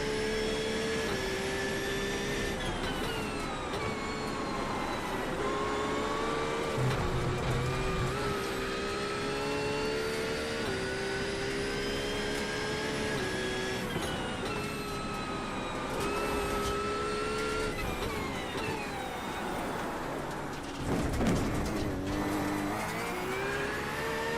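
GT3 race cars run on a wet Oulton Park circuit, one engine droning steadily and loudly close up, rising and falling with gear changes and revving under acceleration for the whole stretch, with no one talking.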